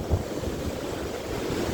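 Rushing water from a Yosemite waterfall and river, a steady broadband roar close by with gusty wind buffeting the microphone in the low end, continuous and without speech.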